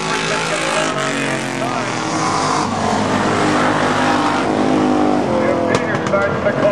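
Thunder Cars race cars roar around a dirt track in a Canada Day feature race, engines droning loudly and continuously under an announcer's running commentary.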